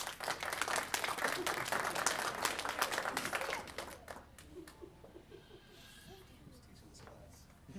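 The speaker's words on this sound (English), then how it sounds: "Round of applause for Christopher, please" Audience at a magic show applauds a volunteer named Christopher, a dense burst of clapping for about four seconds, then fading into scattered chuckles and laughter with some talk.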